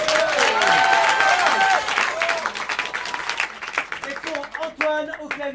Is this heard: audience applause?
yes